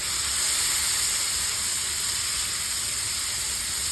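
Garlic frying in a pan, cooked as the base for vodka pasta: a steady, fairly loud sizzle and hiss that holds evenly throughout, with no talking over it.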